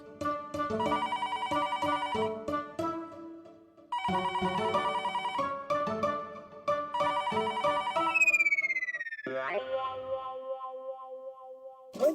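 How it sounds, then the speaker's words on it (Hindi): A telephone bell rings in three bursts of rapid, bright trilling separated by short pauses, then gives way to a gliding electronic tone that sweeps downward and settles into a softer pulsing beep. "फिर से फोन?"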